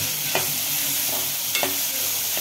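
Onions stir-frying in hot oil for a mutton masala, a steady close sizzle with a few soft scraping stirs of a spatula through the pan.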